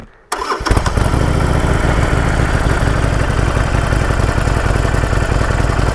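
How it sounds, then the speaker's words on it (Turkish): A Harley Davidson Iron 1200 motorcycle starts with a short crank, then settles into a loud, steady, close-up idle with a rhythmic low rumble that runs unbroken to the end. "sürmeden önce biraz motor sesi yapayım size"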